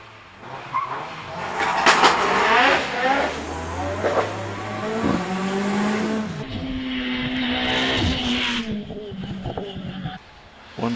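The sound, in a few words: Alfa Romeo MiTo 1368cc racing in hill climb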